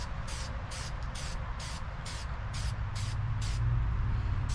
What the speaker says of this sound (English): We're just going to keep spraying it